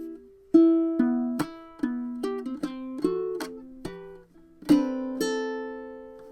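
Fingerstyle ukulele plays the intro of a song, with plucked single notes and small chords ringing out one after another in an uneven, unhurried rhythm, close and clear with no voice.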